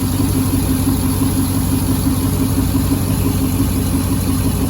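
A Corvette LS2 V8 with a worn, wobbling harmonic balancer idles steadily nearby, a constant mid-low engine drone with faint rhythmic pulsing and no voices.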